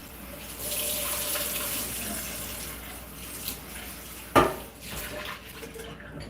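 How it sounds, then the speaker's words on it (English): A pan rinsed under a running tap after painting work, steady water flow with a clattering splash as the pan is moved under the stream, close and without talk. "All right, giving it a quick rinse."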